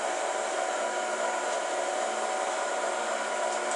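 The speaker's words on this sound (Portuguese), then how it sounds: "a batedeira tem que estar em velocidade mínima para bater a massa devagar" An electric mixer running steadily at low speed while beating cake batter, a continuous even whir that stays close and fairly loud with no pauses.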